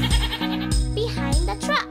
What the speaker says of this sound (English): Where's the goat?